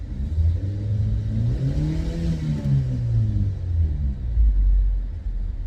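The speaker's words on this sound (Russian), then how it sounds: "Газуем!" A 2008 Opel Zafira B with a 1.8 petrol engine revving up, a deep rumbling rise and fall of engine tone that holds steady and loud, with no voices over it.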